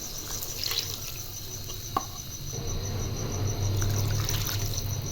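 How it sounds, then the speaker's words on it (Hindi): Three cups of water are poured into a pot of rice with a soft, continuous rushing fill, faint under a constant high insect trill from crickets. "उसी कप से मैं इसमें 3 कप पानी ऐड कर दूँगी"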